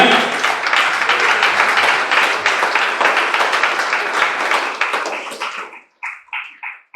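A church congregation bursts into dense, sustained applause that fills the room for several seconds and then thins out into a few scattered, loud individual claps.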